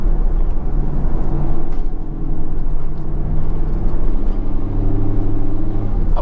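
A 2016 Chevrolet Camaro SS with a street tune drives through a subdivision, its V8 giving a steady close, loud low rumble from inside the cabin, with a slight dip partway through and no talking.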